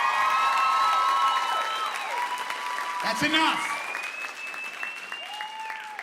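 An audience claps and cheers loudly at a comedy show, with sustained applause throughout and a brief spoken remark partway through.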